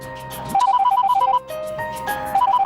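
A telephone rings loudly and close by in a home, its electronic ringtone beeping in rapid pulsed bursts, pausing briefly and then starting again.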